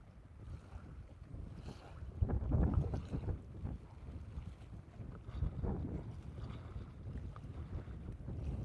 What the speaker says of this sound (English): this wind is whipping too